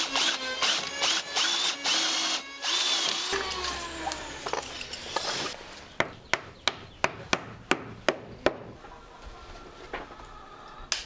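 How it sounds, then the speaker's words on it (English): A drill with a Forstner bit bores out knots in live oak boat frames. It whirs loudly near the start, then a series of sharp, evenly spaced knocks follows, close and alone. "I'll just be boring them out with the Forstner bit and then plugging them up with a little live oak plug"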